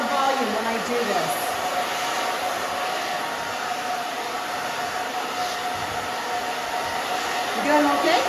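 A hair dryer blows steadily and loudly while drying a short pixie cut, a continuous broadband whoosh with slight swells as it is moved back and forth.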